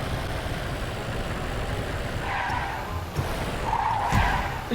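A jeep's engine in the video game Free Fire hums steadily under constant road noise, with a couple of brief bumps and a slight surge near the end.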